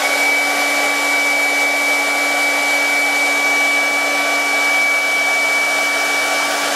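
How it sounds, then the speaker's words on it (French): A hair dryer runs close and loud, heating a Samsung A5 phone's glass to soften the adhesive, a steady whirring blow with a constant high whine, uninterrupted throughout. "Donc à l'aide d'un sèche-cheveux,"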